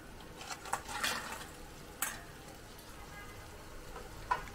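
Spices sautéing in a pan for a crab curry, with a soft steady sizzle broken by brief bursts of stirring and scraping, close and moderately quiet.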